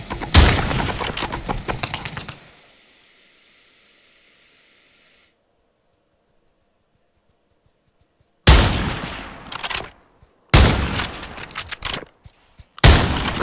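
Gunfire in a capture-the-flag video game: a loud burst of rapid shots, a hissing lull and near silence, then several more sharp bursts of automatic fire close by.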